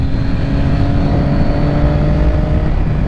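A 2006 Triumph Daytona 675 or 2007 Yamaha YZF R6 sport motorcycle engine running hard, a loud, steady, close-up mechanical drone with no voices over it.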